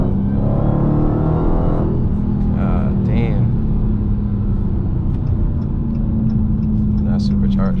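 A supercharged 2019 Dodge Challenger Hellcat engine pulls hard from inside the cabin, a steady loud rumble with a rising supercharger whine, while excited voices talk over it.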